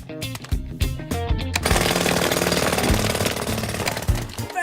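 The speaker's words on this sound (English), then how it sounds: "Place the drill at a slight angle, leaning back toward me." A pneumatic drill breaks up a road, starting with a few short stuttering bursts and then settling into continuous loud, rapid hammering close by.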